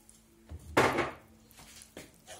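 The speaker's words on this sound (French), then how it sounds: "Puis je mélange tout." Spoon or spatula scraping and clinking in a pan while mixing a tomato and cheese bun filling, a few short irregular knocks and scrapes, one sharper stroke standing out, fairly close.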